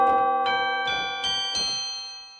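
Tubular bells tones from a keyboard chime in a steady sequence of five loud, overlapping strikes about half a second apart, each ringing into the next and slowly fading.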